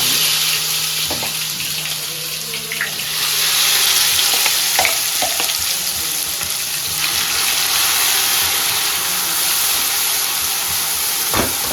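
Spice masala frying in hot mustard oil for a pea and gram-flour curry, a continuous loud sizzle with a faint steady hum and occasional clinks of a spoon stirring the pan.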